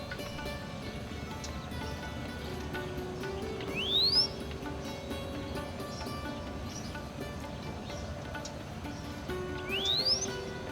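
A white-browed wagtail gives two brief, rising whistled notes several seconds apart, faint and somewhat distant, over a soft background of sustained music.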